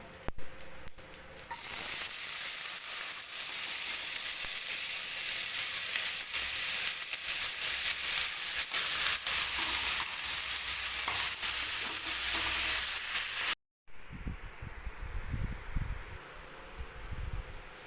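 Cumin seeds and chopped onion fry in a hot pan for paneer bhurji, a steady loud sizzle with stirring scrapes, broken by a brief cut near the end before a softer, lower frying hiss resumes.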